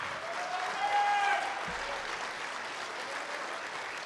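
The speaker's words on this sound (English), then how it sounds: "give him a round of applause" A crowd at a keynote speech applauds steadily, a dense patter of clapping holding at an even level throughout.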